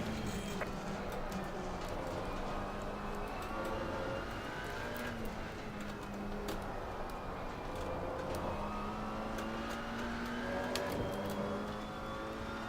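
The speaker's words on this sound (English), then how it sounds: "Faster cars approaching." Faster race cars approaching during a multiclass race at the Nürburgring in Assetto Corsa Competizione, heard from inside a McLaren 570S: steady engine drone with rising and falling whines of nearby cars, moderate and continuous.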